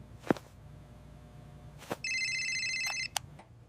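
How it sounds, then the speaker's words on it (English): A new phone's ringtone rings loudly for about a second with steady electronic tones, framed by a few brief knocks and clicks in a quiet room. "The ringtone is loud."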